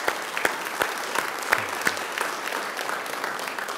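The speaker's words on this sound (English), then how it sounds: "Let's give another round of applause" A church congregation gives a round of applause during a Sunday service, with close, brisk clapping that holds at an even level throughout.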